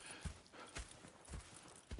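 Horse hooves clip-clop in a steady walking rhythm in the Red Dead Redemption II game world, several soft, fairly close thuds spaced about half a second apart.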